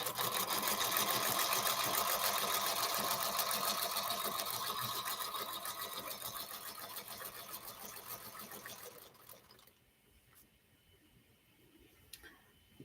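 A sewing machine stitches borders onto a mini petals quilt, running in a steady, close, fast whir for about nine seconds before stopping, followed by faint ticks and handling clicks.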